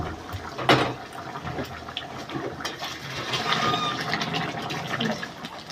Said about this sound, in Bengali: এবার আমি জলটা ঢেলে দেবো গরম করা জল গরম জল ঢেলে দেবো